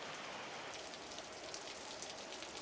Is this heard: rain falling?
yes